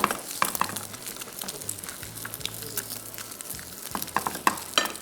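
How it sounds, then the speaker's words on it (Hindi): Eggs frying in a pan with a soft, steady sizzle and scattered crackles and pops, moderately close and fairly quiet, with a low hum underneath. "और अंडे थोड़े से और फ्राई कर लूँ।"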